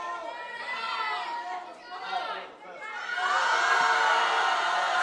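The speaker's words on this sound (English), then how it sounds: "Germantown crowd really going to get behind her here." A high school powerlifting meet crowd cheers and shouts for a lifter during her attempt. Voices swell, dip briefly, then rise into loud, sustained cheering.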